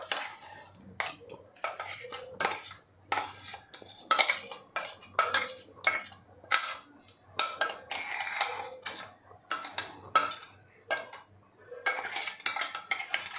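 A spoon scraping thick ground green moong paste out of a grinder jar into a vessel, close rhythmic metallic scrapes and taps in quick bursts with short pauses.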